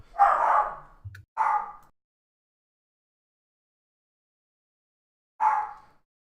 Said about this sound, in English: Oh, my dogs are going buck wild.